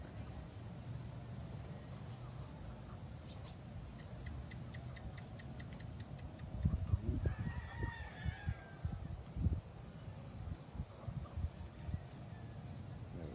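Chickens cluck and a rooster crows on a Philippine farm, moderately distant, with other fowl sounds and rustling scattered over low background noise.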